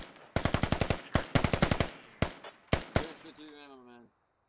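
Video game gunfire from a platoon shooting, several rapid automatic bursts followed by a few single loud shots, close and sharp, ending in a brief tonal ring before silence.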